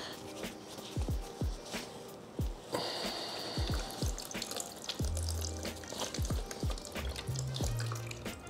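Coolant drains from a PC water-cooling loop, a faint trickle broken by a series of irregular drips and small splashes.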